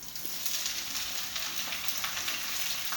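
Onions frying in a pan with red chillies for a chicken curry give a steady, even sizzle that holds at moderate loudness throughout, with no voices over it.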